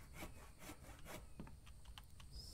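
Wooden boards being sawn at a saw bench in The Infected: steady back-and-forth rasping strokes of a hand saw through wood, about a stroke every half second, quiet and close.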